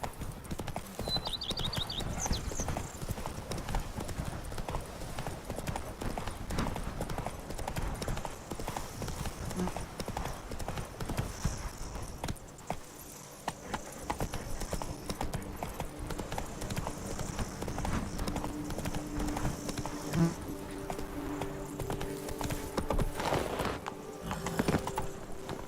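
Galloping horse hooves in The Witcher 3 video game beat a fast, steady clip-clop that runs throughout, with occasional whinnies and faint background game sounds.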